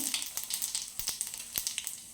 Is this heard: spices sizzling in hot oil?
yes